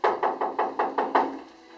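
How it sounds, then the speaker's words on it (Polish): Knocking on a door during a preschool nativity play: seven even, fairly loud knocks in a steady rhythm, followed by a short quiet pause. "Może zapukasz do kogoś, by się dla nas drzwi otworzyły."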